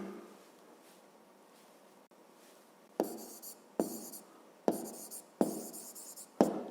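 Pen strokes on paper, faint scratching at first, then five short, crisp bursts of writing spaced about a second apart, close and quiet with no voices.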